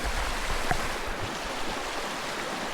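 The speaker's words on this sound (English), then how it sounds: "I have like a creek just to my left." A creek runs beside a campsite in Great Basin National Park, giving a steady, close rush of flowing water with no pause and no voices over it.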